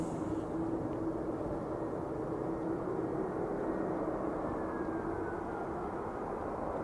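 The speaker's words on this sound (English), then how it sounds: "EasyJet's just touched down on 23 right" An EasyJet airliner landing on runway 23 right at Manchester Airport, a continuous heavy roar of engines and rumbling wheels that holds steady throughout at a moderate distance, with no voices over it.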